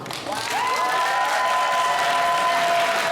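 Applause rises from an audience at a student speech contest for a student speaker, steady clapping from many hands with a sustained tone ringing over it.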